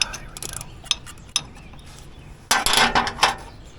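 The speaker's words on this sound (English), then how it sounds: "So I am unscrewing this, backing it out." A tight part being unscrewed and backed out on a Ford tractor, with scattered metallic clicks and ratcheting taps and then a louder burst of scraping, clinking mechanical noise close by.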